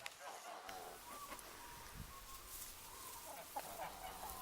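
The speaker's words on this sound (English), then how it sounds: "In this cage here we've just got our Bantam chickens." Bantam chickens in a cage give soft, scattered clucks, fairly faint against a steady background hiss.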